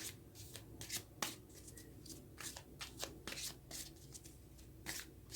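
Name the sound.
tarot cards being shuffled and drawn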